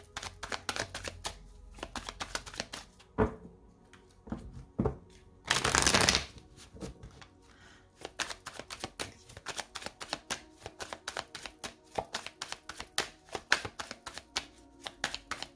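A deck of cards being shuffled and cut for a tarot-style reading, with scattered close taps and flicks, a dense riffle burst in the middle, then a long run of rapid, crisp card snaps.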